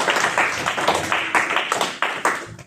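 Church congregation clapping in bursts of applause, a loud, close crowd sound with uneven, crackling rhythm and no talk over it.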